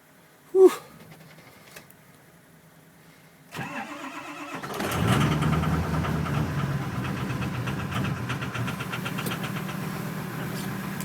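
A cold 2006 Ford F350 diesel cranks after the glow plugs cycle, catches with a rough clatter and settles into a loud, knocking diesel idle, preceded by a sharp click and brief starter whir.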